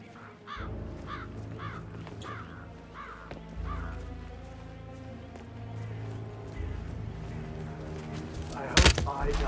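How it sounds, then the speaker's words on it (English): Crows caw repeatedly in Hitman III, a series of harsh calls spread through the first half over a steady game soundtrack and ambient bed, with a loud thump near the end. "Damn birds!"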